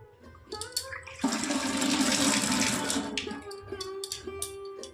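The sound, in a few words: water running while washing hands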